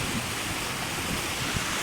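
River flowing beside a fishing spot in northern Pakistan, a broad continuous rush of water with wind buffeting the microphone, loud and close with no voices.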